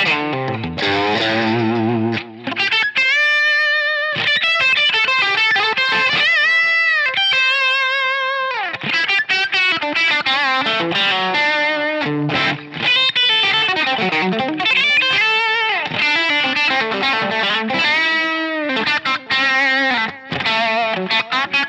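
Electric guitar lead tone through a Line 6 Helix WhoWatt 100 amp model, based on the Hiwatt DR-103, with extra gain: a loud, distorted melodic solo of sustained notes, bends and quick runs, with no talking.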